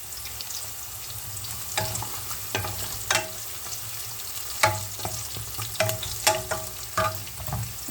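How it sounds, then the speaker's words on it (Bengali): Whole cumin seeds and onions sizzle and fry in a pan, a steady crackling hiss with repeated sharp scrapes and clacks as the pan is stirred, close and fairly loud, with no voices. "এর মধ্যে আমি যে জিরাটুকু রেখে দিয়েছিলাম, আস্ত জিরাটুকু দিয়ে দেব।"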